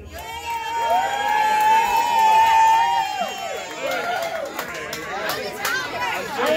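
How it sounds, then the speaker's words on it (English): A crowd at a bowling alley Halloween costume contest cheers and whoops for a couple's outfit, with loud shouts and high whistles swelling and then breaking into mixed chatter. "I want to hear a cheer for their outfit."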